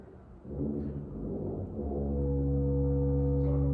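A group of instruments swells into a sustained, steady low C, holding loud and even as more players settle onto the same pitch.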